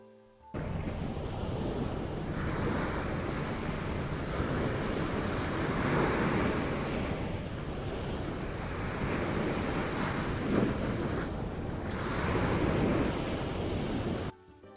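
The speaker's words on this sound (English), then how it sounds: "Sounds like the waves are all around you, like they're back and front of you." Ocean waves wash onto a beach in a generated audio drama scene, a broad continuous surf roar with gentle swells rising and falling, immersive and unaccompanied by voices.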